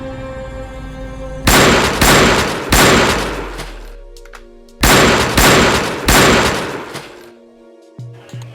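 Two bursts of loud, sharp gunshots, each a rapid cluster of three or four cracks with ringing tails, separated by a brief pause; no voices.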